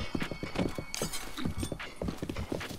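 A horse gallops in Breath of the Wild, its rapid hoofbeats sounding loud and close in an uneven rhythm, with a brief whinny partway through.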